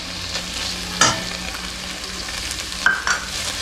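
Curry leaves sizzle and crackle steadily in hot oil for a roadside parotta salna, with two sharper bursts of spitting and a scrape of stirring, close by and with no voices.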